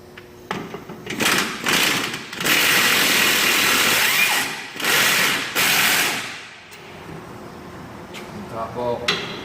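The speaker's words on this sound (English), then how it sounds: "this is the IR Ingersoll Rand Impact 3/8 drive air" An Ingersoll Rand 3/8 drive air ratchet loosens rear brake bolts on a 2001 GMC Sierra 1500 2WD. It runs in three or four loud, close, whirring bursts of one to two seconds each, then quieter clanks and handling noises follow.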